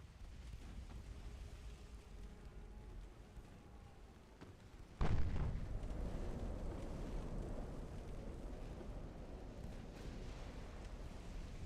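During a naval battle in a warship video game, a single sudden torpedo blast erupts out of a steady low ocean and wind rumble, followed by a lingering dull roar.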